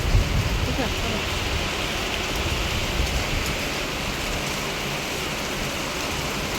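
Heavy rain falls in a steady, broadband wash of patter and hiss that holds evenly from start to end, moderately loud and without speech.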